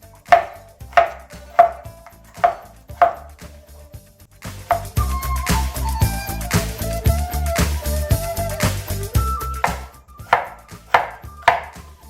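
Cucumber being chopped into slices on a cutting board: sharp, evenly spaced knife knocks, close and clear. A busier stretch of clatter and handling noises interrupts the steady chopping in the middle.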